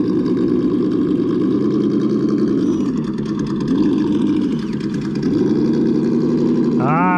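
The small electric motor of a Traxxas TRX4M RC crawler whines steadily and close, rising and falling in pitch as it climbs over obstacles, ending with a sharp upward rev.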